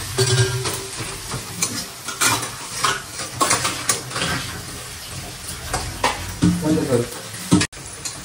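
Chopped onion sizzles steadily in a hot pan for pasta, with repeated scraping and clinking stirs from a utensil over the continuous close frying hiss.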